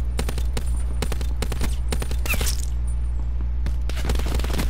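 Rapid bursts of gunfire crackle in a Call of Duty Blackout match, with dense repeated shots and sharp cracks in quick succession, loud and close, continuing throughout with no talk.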